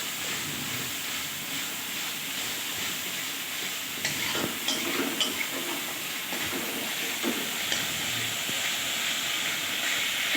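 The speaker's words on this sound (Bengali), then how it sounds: "এই যে মশলা কষানো হচ্ছে তেলাপিয়া মাছের জন্য।" Spices cook in hot oil in a pan for a tilapia fish curry, giving a continuous close sizzle and hiss with occasional scraping stirs, and no talk.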